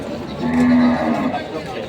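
A young water buffalo calf at a Padre Garcia, Batangas livestock market gives a single drawn-out low, loud and near, with crowd chatter and voices around it.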